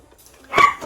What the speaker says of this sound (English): There's Maddox the Model Pup has decided that he's going to voice his opinion on that